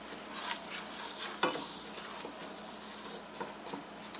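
A roux of oil and flour boils and sizzles in a pan while being stirred, giving a steady close crackling hiss with the soft scrape of the spoon, and a louder clack around a third of the way through.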